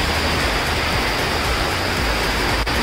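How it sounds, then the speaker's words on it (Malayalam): Heavy rain pours steadily in a dense, even roar that fills the whole stretch without a pause, with no voices present. "എനിവേ കിഡിലെ മഴയാണ് കേട്ടോ"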